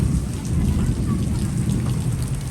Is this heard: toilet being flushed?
no